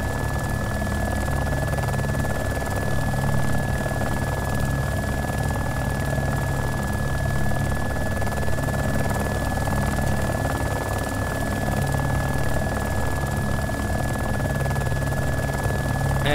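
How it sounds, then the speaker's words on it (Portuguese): Continuous rotor thrum and engine drone of a helicopter in the video game DayZ, steady and fairly loud, with a constant high whine running underneath and no talking. "Quanto mais você acelerar o helicóptero, mais ele vai descer."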